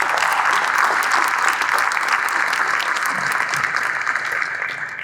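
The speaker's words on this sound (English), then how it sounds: "I want to give them a round of applause for what they've done" An audience applauds steadily at a talk on historic preservation in Las Vegas, New Mexico, a dense, sustained wash of clapping that holds loud for about five seconds before easing slightly.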